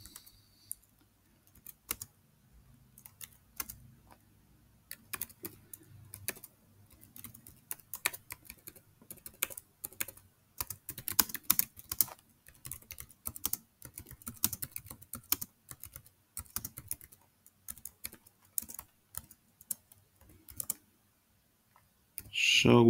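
Python code being typed on a computer keyboard, a long run of rapid irregular key clicks in bursts with short pauses, close and moderately loud, with no speech.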